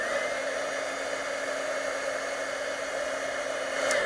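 Heat tool blowing hot air onto embossing powder, a steady close whirring rush that stays level and unbroken throughout.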